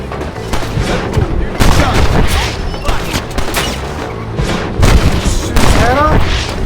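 Repeated gunfire in the video game Red Dead Redemption, several loud sharp bursts scattered across the moment, with players talking and reacting under and between the shots.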